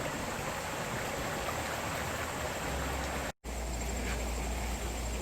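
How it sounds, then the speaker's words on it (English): Steady rushing water of the Cascades waterfall on Jones Creek at the Jacksonville Arboretum, a dense continuous broadband roar heard alone, with a brief dropout partway through. "and hear our wonderful Cascades waterfall."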